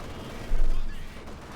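Heavy World War II gunfire from the Company of Heroes 2 battlefield, a brief thumping burst of shots under a steady backdrop of battle noise, with a commentator talking over it.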